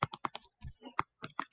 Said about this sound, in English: if we grab our calculator and type in the square root of 29